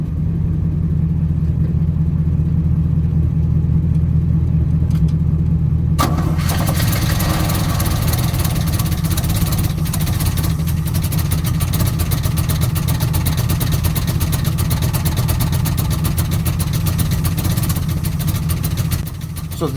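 An engine with an exhaust leak cranks and catches, then runs steadily with a rough, raspy puffing rhythm, loud and close, no voices.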